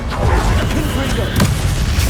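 Confringo fire-blast spell from Hogwarts Legacy bursting in a dense, booming explosion that rumbles steadily across the short moment, with a brighter crack near the end and battle noise underneath.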